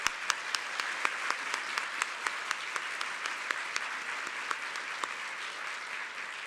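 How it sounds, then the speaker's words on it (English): An audience at a STEM innovation summit awards brunch gives a round of applause, continuous even clapping with a few sharper individual claps standing out, moderately distant. "Let's give our STEM and STEAM designated schools another round of applause"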